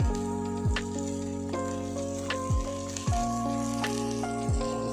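Soy sauce hits onion and Gobi Manchurian sizzling in a pan, a loud steady frying hiss with a few sharp splashes and crackles as the liquid lands, no talking.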